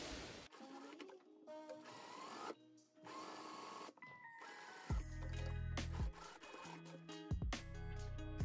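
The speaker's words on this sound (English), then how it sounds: "now we can stitch very closely to the open edge and top stitch the button tapes" Sewing machine top stitching button tapes along an open edge on a puffy skirt, with bursts of fast mechanical whirring that stop and start, loud and close.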